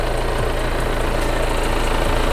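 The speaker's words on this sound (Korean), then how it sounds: "엔진 소리 일정합니다." A Volkswagen CC 2.0 TDI BlueMotion diesel idles with its engine bay open, giving a loud, close, steady rumble with an even low clatter and no speech.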